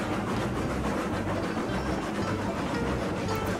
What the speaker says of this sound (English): Just kind of watching the train, looking for issues. Watching the locomotive.